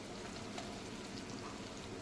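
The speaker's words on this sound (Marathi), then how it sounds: "जे यखनीसाठी आपण सगळे मसाले टाकलेले ना पाण्यामध्ये ते आता मस्त उकळत आहे" Whole spices boil in a pot of water for chicken yakhni, giving a close, steady bubbling hiss that stays even and continuous with no voices.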